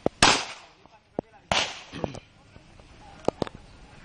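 Live firing at a firing range produces sharp, loud cracks, several scattered over a few seconds with gaps between them. A faint background murmur carries between the shots.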